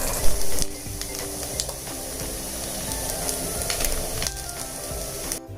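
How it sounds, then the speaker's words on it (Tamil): Whole idlis, made from rava, frying in oil in a wide pan: a steady, dense crackling sizzle that continues throughout, with a few sharper pops and clicks on top. "இப்போ நம்ம இதை ஃப்ரை பண்ணி எடுத்துக்க போகிறோம்."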